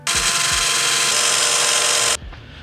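Power drill boring through a display case built for lightsabers, a loud steady high-pitched whine held for about two seconds before cutting off abruptly, with a few low thumps at the start and end.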